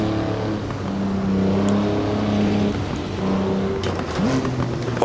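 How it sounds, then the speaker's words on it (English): Modena and Micro historic race cars in Assetto Corsa run side by side on a street circuit, their engines droning with sustained loud pitch tones that rise and shift as they accelerate and change gear, close and continuous. "The Modena overall, that's the car on the left there, a bit quicker than the Micro."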